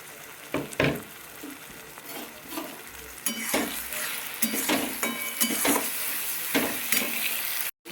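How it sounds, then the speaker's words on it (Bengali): Ginger, garlic, green chilli and dried chilli paste sautés in a hot pan, sizzling steadily up close. A spatula repeatedly scrapes and taps against the metal at an uneven rhythm, with no talking. "এটাকে দিয়ে ভালো করে মশলাটাকে কষাবো।"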